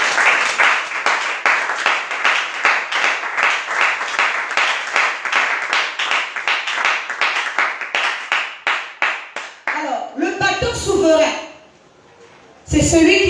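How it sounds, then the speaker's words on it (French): A church congregation claps in a steady, loud rhythm for several seconds, then breaks into cheering and shouts before the clapping fades, with voices calling out over the noise. "Acclame encore le Seigneur très fort."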